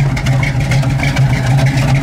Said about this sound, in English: Listen to that 455, man. It has a great sounding dual exhaust.